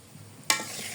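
Half a cup of sugar is stirred into a cup of boiling water to make syrup, a quiet bubbling that breaks into a sudden sharp hiss and sizzle halfway through.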